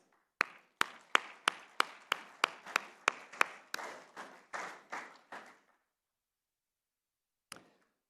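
At a cricket player auction, about fifteen separate sharp claps ring out in a quick, even run. They thin out and fade, then a lone clap lands after a short silence, with a faint echoing room behind them.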